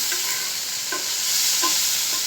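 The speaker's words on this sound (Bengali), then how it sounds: "এভাবে মাছগুলোকে সুন্দর করে আগে ভেজে নিতে হবে" Small fish pieces sizzle steadily in hot oil in a pan, a constant hiss close by, broken by a few light stirring scrapes and no speech.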